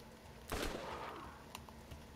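A single burst of incendiary gunfire in Borderlands, a sharp broadband blast followed by a sizzling decay, with a couple of small faint clicks after it.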